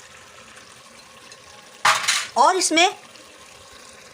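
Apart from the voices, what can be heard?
water poured into pressure cooker with mutton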